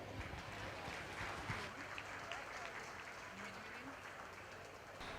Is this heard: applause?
yes